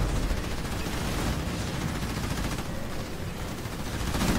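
Rapid gunfire from enemy vehicles in the real-time strategy game Halo Wars 2, a dense unbroken barrage of shots and blasts that stays loud throughout, with no talking.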